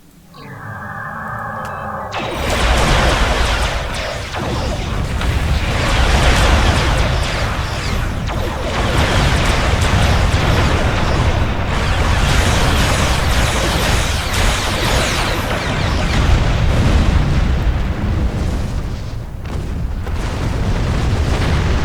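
Starship weapons and explosions in a Star Trek Online space battle, a dense continuous roar of booming blasts and bursts sustained loudly for about twenty seconds after a quiet start.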